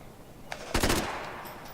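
A quick burst of rapid gunfire from the video game Max Payne 3, several close, loud shots in a tight rattle, preceded by a single faint pop and trailing into a short echo.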